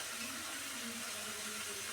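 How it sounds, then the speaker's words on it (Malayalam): Steady stream of hot water pouring continuously with a soft hiss, close by, with no voices. "ഞാൻ ഒഴിക്കുന്നത് ചൂടുവെള്ളമാണ് കേട്ടോ"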